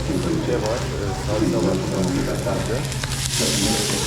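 Oil and onions sizzle steadily in a pan while being stirred, a constant frying hiss with occasional scraping, under people talking throughout.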